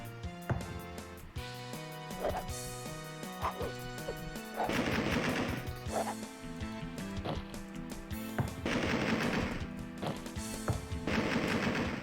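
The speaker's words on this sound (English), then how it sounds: "now maybe I'm shooting over his shoulder" Rapid machine-gun bursts from the video game Alone in the Dark 2, loud repeated volleys of shots in several clusters over a dense game soundtrack.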